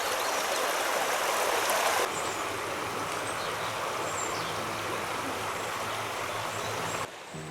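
River flowing beside a riverside path through steep-sided, wooded Dovedale in the Peak District, a steady, full rushing of water heard close by throughout, with no voices.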